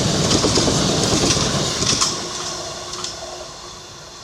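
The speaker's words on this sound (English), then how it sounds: "and then the train arrived fairly soon after that" The Bath Christmas Market Express steam train arrives, its carriages rolling past with a loud rumble and clickety-clack of wheels, then fading gradually as it draws away.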